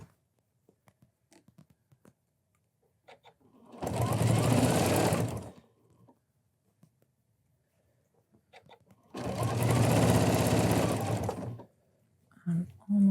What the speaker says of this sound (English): we'll just sew right along that gap that we've now closed